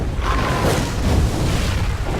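Bombs explode in the video game Dungeon Siege III, a dense burst of booming blasts and crackling bangs packed into about two seconds, loud and close.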